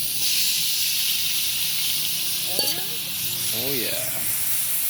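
Onions sizzle on a hot pan over a campfire with a steady, bright hiss, close and fairly loud, while someone briefly speaks over it.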